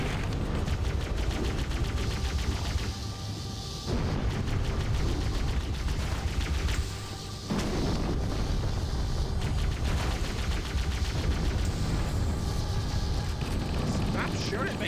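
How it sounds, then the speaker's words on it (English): Rapid bursts of gunfire from Halo: Combat Evolved, loud and sustained across the whole stretch with brief lulls, mixed with mechanical game effects and other game noise. "Stop shooting at me!"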